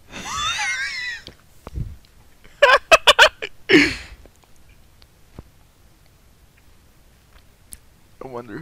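Chickens cluck inside a Counter-Strike match: a wavering, chirpy call at the start, then a quick run of sharp squawks and a louder burst in the middle, with scattered game clicks and quiet gaps between.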